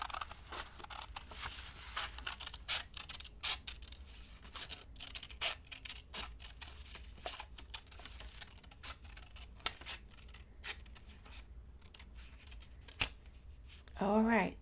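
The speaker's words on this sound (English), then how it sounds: "I'm just cutting down the tiniest little bit." Small scissors snipping paper to shape a turtle shell, with a long run of crisp, close cuts at an irregular pace and light paper rustling, with a voice talking faintly in between.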